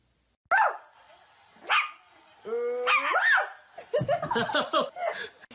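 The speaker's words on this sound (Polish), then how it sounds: "Jaki słodki piesek." A small dog gives two sharp, close barks. Laughter and several voices come after them, with bursts of chatter near the end.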